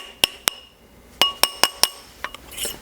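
Sharp metallic taps ring out as a silver ring on a steel ring mandrel is struck to flatten its solder joint, two quick strikes, a pause, then four evenly spaced taps and a couple of softer ones, close and bright.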